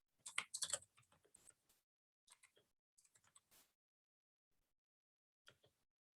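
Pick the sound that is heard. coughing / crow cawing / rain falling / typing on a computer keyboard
typing on a computer keyboard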